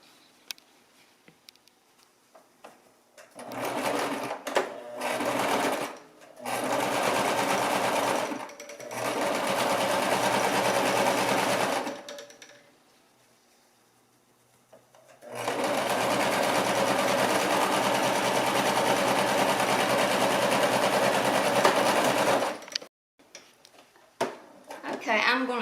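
A sewing machine seams old denim jeans into a purse, stitching in several steady runs of a few seconds each with short pauses and one longer break, close and loud.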